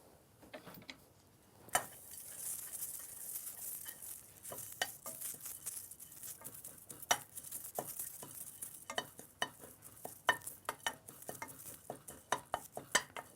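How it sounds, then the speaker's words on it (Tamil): Dal being dry roasted with curry leaves in a pan, with soft scraping and stirring clicks of a utensil against the pan, faint and irregular, alone with no talk. "இதை அப்படியே நம்ம கொஞ்சம் ட்ரை ரோஸ்ட் பண்ணிக்கலாம்"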